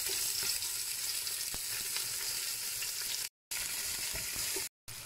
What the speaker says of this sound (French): là vous ajoutez l'oignon coupé en quatre Voilà. C'est bien le faire colorer.